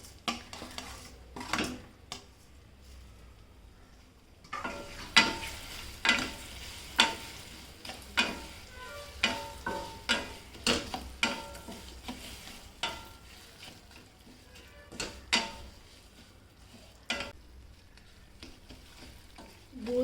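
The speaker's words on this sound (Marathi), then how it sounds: "गूळ साखर चांगली पागळून घ्यायची. हलवीत राहायचं." Jaggery and sugar melting in a pan, stirred with a spoon that knocks and scrapes against the metal in an irregular rhythm over a soft sizzle, close and fairly quiet with no talk.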